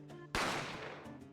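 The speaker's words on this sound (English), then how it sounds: "A gunshot rang out" A single sharp gunshot in the video game Spiritfarer bursts out abruptly over soft background music, then decays in a long echoing tail before the music resumes.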